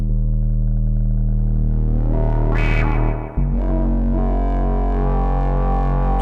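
A Dreadbox Erebus 3 analog synthesizer plays a sustained tone through a sweeping, vowel-like talking filter, swelling into a bright burst before dropping back to a gritty drone with added echo.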